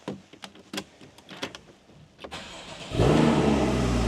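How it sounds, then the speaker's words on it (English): A 2015 Porsche 981 Cayman S flat-six engine fires up after a few quiet clicks and cabin sounds, catching abruptly with a loud burst and settling into a strong, steady idle. "you'll hear that classic flat six noise"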